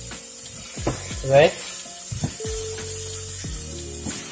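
Raw chickpeas cooking in a pan for a vegetable biryani, a soft steady sizzle under a voice, with a short stirring scrape partway through.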